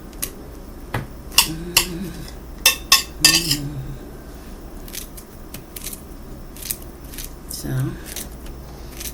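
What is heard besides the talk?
cutting pineapple into chunks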